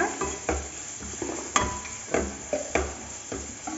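Radish stuffing with masala fries in a pan while a spoon stirs it, with soft scraping strokes in a steady rhythm over a quiet sizzle, close and fairly faint.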